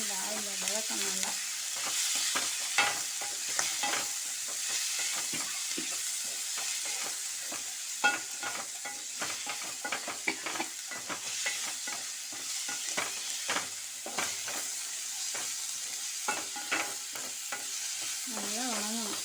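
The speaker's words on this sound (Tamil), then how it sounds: "அதனால் நல்லா எண்ணெயில் ஆயில் வதக்கணும்." Pirandai (adamant creeper) sautéing in oil in a Tamil home kitchen, giving a steady sizzle with frequent scraping and tapping stirs throughout, and a brief murmur of voice near the start and end.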